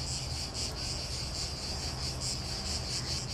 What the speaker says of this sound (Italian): Sono in compagnia delle cicale.